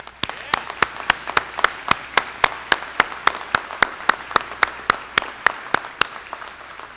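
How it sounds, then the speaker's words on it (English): Applause at a high school commencement: sharp, evenly spaced claps ring out in a steady rhythm for about seven seconds over a low background hum of the hall. "Let's give them a round of applause."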